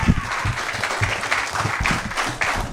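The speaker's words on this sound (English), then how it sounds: "Make some noise for the blind sides, Michael Orr, everyone." Audience applause at a comedy show: a steady, fairly loud patter of many hands clapping throughout the short stretch, with a few crowd voices mixed in.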